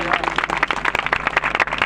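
A church congregation claps in praise during a Hindi sermon, giving quick, dense, rhythmic applause from many hands, fairly loud and close, with faint voices underneath.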